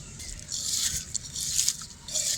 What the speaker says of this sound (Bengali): এবার আলুটা ছেনে নেব